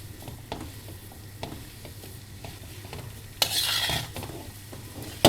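Besan being stirred into melting ghee in a pan for besan barfi, with soft repeated scraping strokes over a low sizzle and a brief louder clatter near the end.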